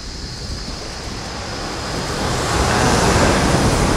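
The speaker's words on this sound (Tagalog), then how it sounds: "Pero maalon lang siya." Rough sea waves roll onto a sandy beach at Puerto Galera, a loud continuous wash of surf that builds slightly, mixed with wind rumble on the microphone, and no voices.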